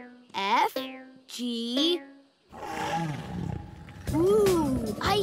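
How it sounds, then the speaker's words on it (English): Cartoon dinosaur roars from a children's animated show: two high, tonal bellowing roars followed by deeper rumbling, growling roars, loud and close with nothing else over them. "I hear dinosaur roars."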